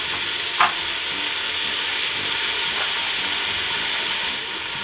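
Chopped onions frying in melted butter hiss as a steady, even sizzle with a faint stir or two near the start, then the sound drops slightly at the end.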